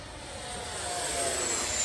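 An FMS 80mm F-86 Sabre radio-controlled model jet whooshes past overhead with a rising, hissing roar that swells steadily, heard at a distance with no voices.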